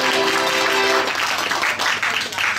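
Guests in a German cuckoo-clock restaurant in Melbourne break into dense, steady applause that follows a brief sung or spoken voice, with the clapping continuing close and loud.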